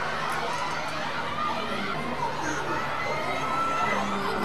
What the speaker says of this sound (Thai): เสียงกองเชียร์ดังกระหึ่มในสนามอีกครั้งนะครับ